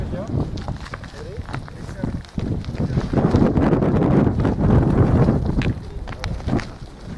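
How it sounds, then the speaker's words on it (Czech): Wind gusts across an outdoor scene, roaring and buffeting the microphone steadily throughout, loudest in the middle, with people talking in the background. "No, už začíná foukat."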